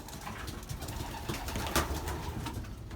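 Belgian racing pigeons, young 2020 birds in a loft on training day, coo softly amid a dense, continuous murmur of flock noise and rustling, fairly close and steady throughout.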